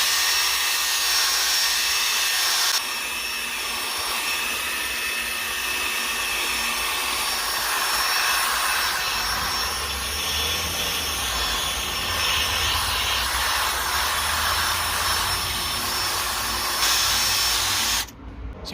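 A rotary polisher runs a pad over a BMW E60 headlight, giving a loud, continuous high whirring drone that holds steady for nearly the whole stretch and cuts off abruptly at the end.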